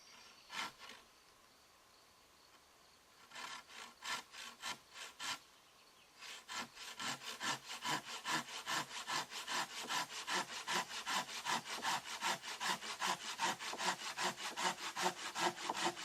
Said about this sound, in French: la scie arboricole. Elle scie 100 fois mieux.